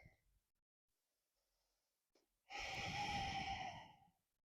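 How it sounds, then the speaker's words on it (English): A deep Ujjayi yoga breath, drawn slowly and audibly through a narrowed throat during sun salutations, heard as one long, close, breathy rush of about one and a half seconds after a faint short breath and a quiet pause. "Deep Ujjayi breath."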